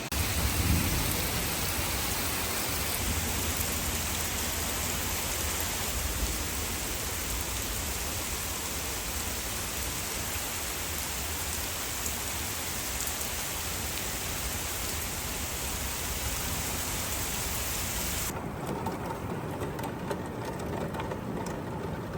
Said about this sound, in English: I'm just laying here and the storm just keeps going